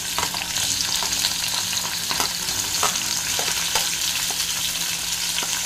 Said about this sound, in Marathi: सो तेल तापत आलेलं आहे, त्याच्यात आता आपण जे कांदा, टोमॅटो, लसूण आलं आहे ना, ते सगळं एकत्र आपण टाकून घेणार आहोत